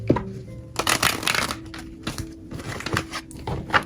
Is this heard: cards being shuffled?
yes